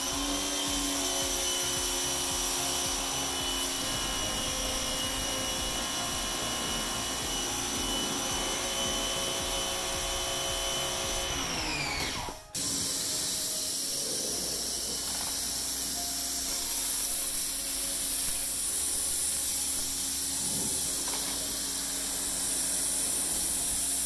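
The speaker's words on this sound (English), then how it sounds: "You attach it to your pressure washer just like that." A Ryobi pressure washer fitted with an undercarriage cleaner attachment sprays with a loud, steady hiss. The rushing noise cuts out briefly about halfway through, then resumes just as strongly.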